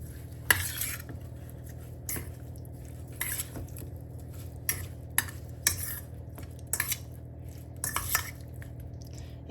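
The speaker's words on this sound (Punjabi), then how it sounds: "ਹੁਣ ਆਪਾਂ ਨੂੰ ਸਾਰੇ ਨੂੰ ਮਿਕਸ ਕਰਦੇ ਆ" Veg roll filling is mixed in a bowl with a spoon, producing a quiet series of irregular scraping and clinking strokes against the bowl over a low background hum.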